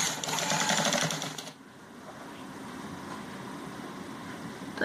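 A sewing machine runs basting stitches along kurti fabric, a steady loud mechanical whir for about a second and a half before it stops, leaving quieter room noise.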